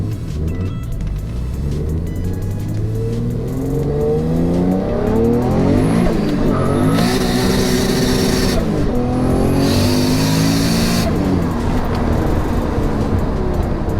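A 2JZ-engined car pulls at full throttle toward 145 mph, bouncing off the rev limiter. The engine roars loud and continuous, its pitch climbing and dropping through each gear, with tire noise and rumble underneath.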